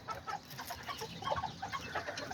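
A small miniature hen, likened to an Azteca type, clucks softly in quick, scattered notes. The sound is faint and close, with light background noise and no talk.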